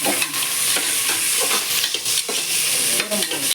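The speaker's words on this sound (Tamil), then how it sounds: "வெங்காயம் சேர்த்துட்டு நல்லா ஃப்ரை பண்ணணும்." Onions frying hard in oil for mutton gravy, a loud continuous sizzle broken by repeated scraping strokes of a spoon stirring the pan, heard up close with no talking.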